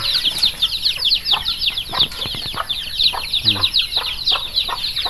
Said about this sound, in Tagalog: Daghang kay manok idol.